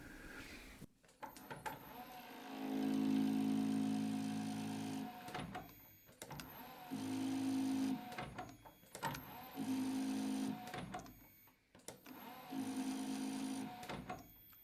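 A milling machine cuts a 45 degree chamfer on a metal part near a threaded section, a steady whining grind in several long passes separated by short pauses, fairly quiet and close.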